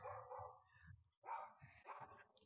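A dog barks several times in quick succession, a close, moderately loud run of yips and barks with brief pauses between them and no talking.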